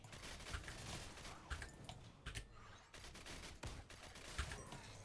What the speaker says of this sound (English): Pretty satisfying explosions.